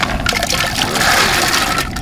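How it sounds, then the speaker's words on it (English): Raw peanuts are dumped into a pot of hot water, giving a continuous splashing, sloshing rush of liquid close by, with no voices. "Let's go ahead and add these peanuts."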